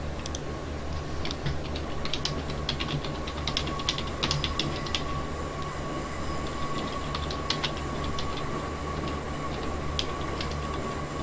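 Stopping train running on the line between Glenfinnan and Fort William, a steady low rumble with rhythmic clicking of wheels over rail joints throughout, heard from inside the carriage.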